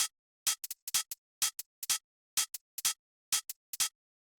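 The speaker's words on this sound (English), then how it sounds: "Next thing that we have here is the hi-hats" Swung closed and open hi-hats from a minimal house drum pattern play alone. Crisp, bright ticks come in uneven, shuffled clusters with slightly longer open hits mixed in, and nothing else plays around them.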